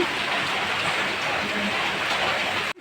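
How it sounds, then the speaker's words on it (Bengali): Rain falling steadily outdoors around a garden with flowering vines, a constant close wash of drops that stays even and fairly loud until it cuts off abruptly at the end. "বৃষ্টি পড়ছে দেখ বুঝাই যাচ্ছে উপর থেকে"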